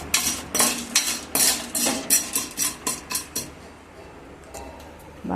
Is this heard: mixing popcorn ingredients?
yes